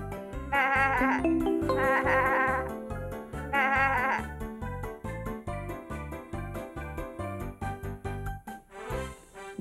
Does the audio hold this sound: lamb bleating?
yes